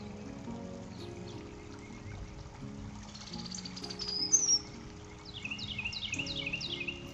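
Resident birds chirp and call in a backyard garden, short bright tweets scattered over a soft, fairly quiet background hum, with a brief louder squawk midway and a run of rapid chirps near the end.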